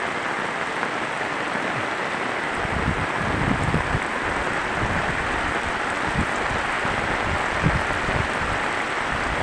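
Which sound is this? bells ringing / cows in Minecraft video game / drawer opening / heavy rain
heavy rain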